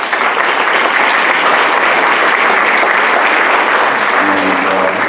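Sustained applause from an audience at a school board meeting, a dense steady wash of many hands clapping at full loudness for about five seconds, with a few voices faintly audible toward the end.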